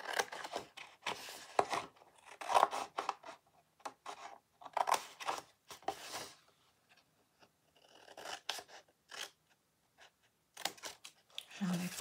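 Scissors snip through material in a scattered series of short, crisp cuts, close but fairly quiet, with brief gaps and soft handling noise between them.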